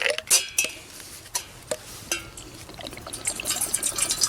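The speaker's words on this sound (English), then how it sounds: "Let's go ahead and put a little bit of water in the pot." Water splashes and trickles into a metal cooking pot set up for emergency survival steaming of crawfish pie, with sharp clanks of metal and utensils at the start, then a bright, close, uneven pouring stream.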